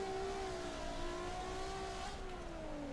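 A car engine in the CarX Drift Racing Online game holds a steady, high revving whine while drifting, pitch easing down slightly with a small shift partway, continuous and loud with a constant backdrop.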